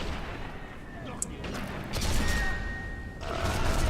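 A distant firefight in the WWII shooter Sniper Elite V2: scattered gunshots and artillery-like thumps crack over a dense, rumbling battlefield background, with a couple of sharper bursts standing out across a few seconds.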